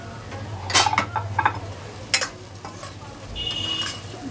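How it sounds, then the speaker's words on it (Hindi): Stuffed brinjals frying in a pan produce a low sizzle with scattered utensil clinks and stirring scrapes, close and moderately loud, with a background hum and no voices. "दो मिनट फ्राई कर लेंगे इन्हें।"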